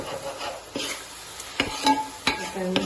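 Spice paste for a Telugu country chicken curry fries in a pan, a soft sizzle broken by several sharp scraping stirs of a spoon against the metal.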